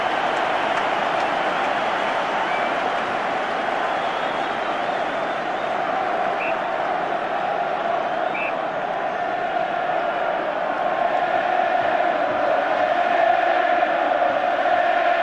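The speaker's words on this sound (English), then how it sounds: "the roar of the crowd deafening the call for the throw-in" Dense, sustained roar of a packed stadium crowd at a 1993 England versus New Zealand rugby test match, loud and continuous with occasional swells of shouting.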